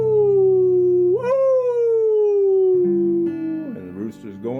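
A voice imitates a long, wavering howl as if calling at the wind and moon, a loud sustained tone that slides up then slowly falls before breaking into shorter yelps near the end.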